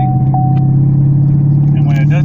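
A car engine running rough after its tuning was erased by a dealer, a steady low idling drone with a throbbing, uneven character, close and loud, with a brief higher sound near the end.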